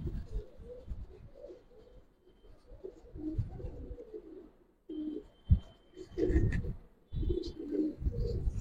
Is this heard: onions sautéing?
no